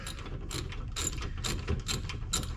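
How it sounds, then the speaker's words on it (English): A ratchet wrench turning a bolt during a rear brake change on a GMC Acadia, giving repeated close clicking strokes in an uneven rhythm with no speech. "I am obviously going to have to use the wrench once again to hold that bolt"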